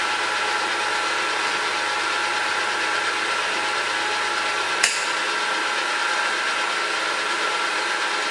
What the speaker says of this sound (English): It's a carbide tipped end mill I've had, and so we'll just run along the edge.